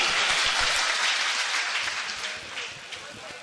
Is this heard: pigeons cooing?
no